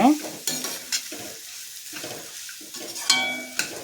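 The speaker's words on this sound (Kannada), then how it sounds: "ಈಗ ಇದನ್ನು ಎಣ್ಣೆಯಲ್ಲಿ ಒಂದೆರಡು ನಿಮಿಷ ಹುರ್ಕೊಂಡ್ರೆ ಸಾಕಾಗುತ್ತೆ" Green chillies frying in hot oil in a pan, soft sizzling with several sharp stirring scrapes and clinks at irregular moments, fairly quiet and close, no talk.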